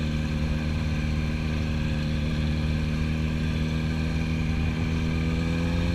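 A Yamaha YZF-R1 motorcycle ridden at an even pace, its engine a steady droning hum with strong harmonic tones, unbroken and moderately close throughout.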